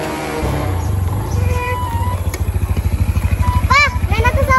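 A motorcycle engine idles and pulses in a low, throbbing rhythm close by, with chirpy voices and other tonal sounds over it as the bike pulls up and is parked.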